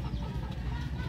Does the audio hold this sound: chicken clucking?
yes